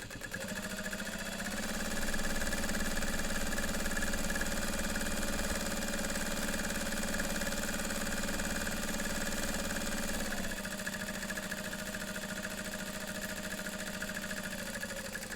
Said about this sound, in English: And I'm sewing across the end,